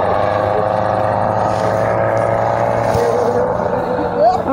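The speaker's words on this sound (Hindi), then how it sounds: "और मोटर बाइक स्टार्ट हो चुका है" A jet ski engine runs on the water at Getalsud Dam in Ranchi, a loud, close, steady motor drone with slight shifts in pitch, and someone speaks over it.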